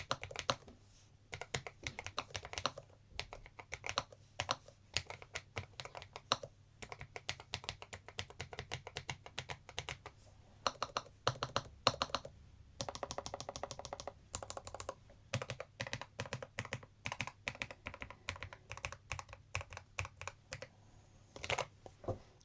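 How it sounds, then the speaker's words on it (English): Quick typing on a LOFREE Flow2 low-profile mechanical keyboard with Pulse tactile switches fills the room with a dense, continuous patter of clicky keystrokes, soft and close, broken by a few brief pauses. "It's got a nice fast typing action."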